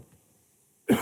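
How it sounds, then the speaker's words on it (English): A single short cough bursts out at the very end after about a second of near silence, close and fairly loud. "Excuse me, I'm gonna cough."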